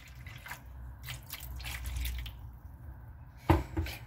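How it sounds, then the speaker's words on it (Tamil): Water is poured into a simmering palak paneer gravy in a pan. Soft splashing and dripping sound close by at a low level, with a sharper splash near the end. "இப்போ இதுக்கு தேவையான தண்ணியும் நம்ம ஆட் பண்ணிடலாம்."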